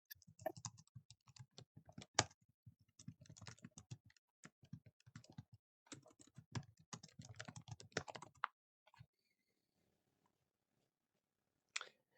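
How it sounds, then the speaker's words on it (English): Rapid bursts of typing on a computer keyboard, close by, with pauses between runs and a single click near the end. "I was typing."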